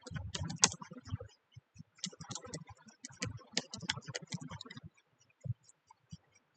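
Keys clatter on a computer keyboard as someone types out website code, with quick bursts of clicks, short pauses, then sparser taps near the end, recorded close and fairly quiet with no talking.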